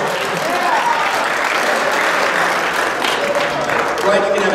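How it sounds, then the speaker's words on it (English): Sustained audience applause at a comedy hypnosis show, a dense, even wash of many hands clapping at steady loudness throughout, with crowd murmur mixed in. "Give Brian a big round of applause, by the way."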